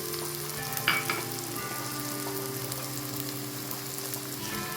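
Kashmiri chili and coriander powder frying in oil in a pan for a Kerala fish curry, a steady soft sizzle with light stirring scrapes, continuous and close, no talking.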